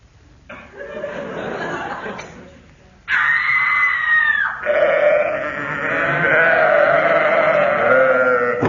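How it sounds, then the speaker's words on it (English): A comedy sound effect in which sheep bleat, then a woman screams loudly, followed by more bleating and shrieking layered together, with laughter mixed in. "That was a Vestal Virgin tripping over a sacrificial sheep"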